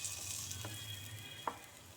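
Egg pieces frying in a pan for a pepper egg masala, a faint steady sizzle with a couple of light taps from a utensil, quiet and close.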